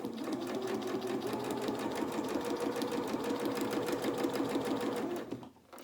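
A sewing machine stitches fabric for a doll's twirling dress, a steady fast mechanical whirring with rhythmic needle ticks close by, running continuously before stopping abruptly at the end.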